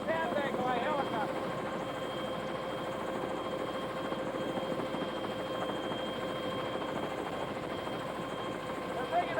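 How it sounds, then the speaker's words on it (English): A National Guard helicopter flies over flooded water works, its steady rotor and engine drone continuous and fairly loud, with people talking over it. "National Guard helicopter."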